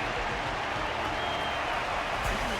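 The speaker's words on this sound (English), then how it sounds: "Their constant applause is a salute to this resilient Belabogian fighter." Steady audience applause fills the hall at a fighting match, a dense, continuous wash of clapping from a large crowd with no breaks.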